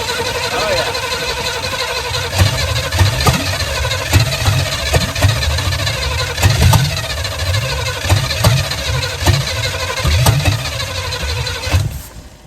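A 1983 Chevy Malibu wagon engine, restarted after sitting for over a decade, runs steadily and loudly up close with a rough, pulsing idle and occasional ticks, then cuts off abruptly at the end.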